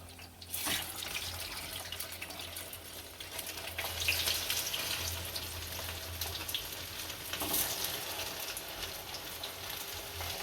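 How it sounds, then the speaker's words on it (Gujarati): A steady hissing sizzle of potato and poha tikki frying in oil, close by and unbroken, with occasional sharper crackles. "આ બાજુ તળાવવા દેશું હવે"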